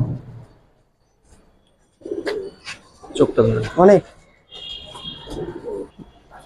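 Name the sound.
pigeons cooing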